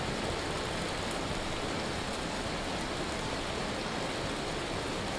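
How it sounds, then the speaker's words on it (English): Hail pours down in a steady, dense roar of pelting ice on surfaces, loud and continuous with no breaks, covering everything else. "Oh, over the hail. I'm sorry. That's just straight hail."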